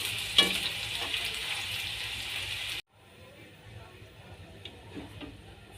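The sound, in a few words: potatoes deep-frying in oil for potato chivda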